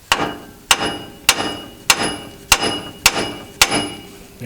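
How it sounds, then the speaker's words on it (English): Sledgehammer striking a front suspension part on a 2017 Ram 1500 4X4: seven sharp metallic blows at an even, steady rhythm roughly every 0.6 seconds, loud and close, each with a short ringing decay. "you're going to want to get a sledgehammer, smack this portion here to get this loosened up."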